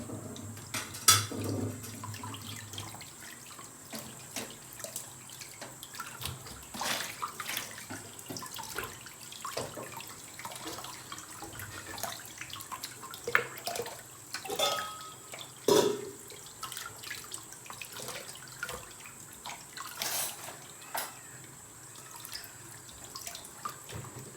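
A tap runs steadily into a sink while raw roast meat pieces are rinsed clean, with splashing, dripping and occasional clinks of a bowl or dish, close by and without talk.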